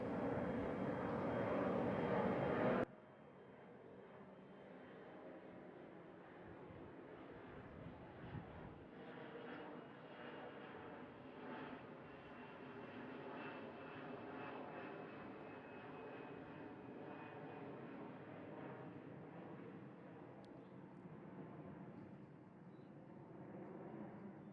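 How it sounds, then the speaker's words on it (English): An airplane passes over a park in Newport Beach, a steady distant engine drone holding for about twenty seconds after a brief louder burst at the start. "of course, the exception of a little background noise, the planes, etc."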